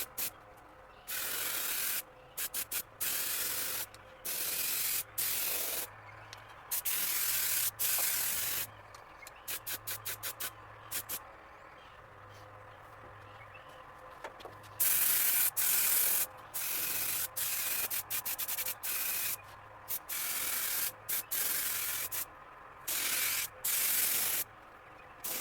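An aerosol can sprays orange paint onto rat rod link bars in repeated short hissing bursts, each a second or two long, separated by brief silent pauses, close and fairly loud.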